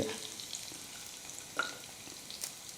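Garlic and green chilies fry in a pan for a spicy moringa leaf stir-fry, giving a faint, steady sizzle with a few soft clinks of stirring, no talk.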